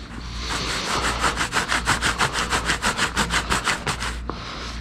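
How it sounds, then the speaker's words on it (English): An animal hide is dragged back and forth across a rebar bar while being tanned, giving a rapid rhythmic rasping scrape of around twenty strokes, close and loud, ending with a brief knock. "we'll just kind of keep working this hide across this rebar"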